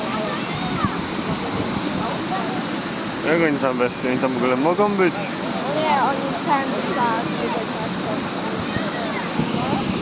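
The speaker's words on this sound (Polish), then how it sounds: "Niezły wodospad, nie powiem, że nie." A waterfall rushes with a constant broad roar, loud and close, while people chat in Polish over it.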